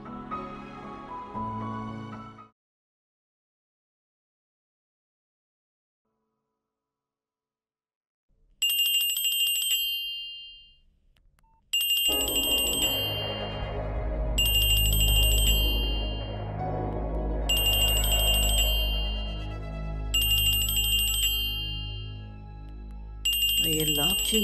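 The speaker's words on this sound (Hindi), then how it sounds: "ये लाभ जी मुझे क्यों फोन कर रही हैं?" A telephone rings in repeated bright electronic bursts, first alone and then over music and background sound as it keeps ringing in a domestic scene.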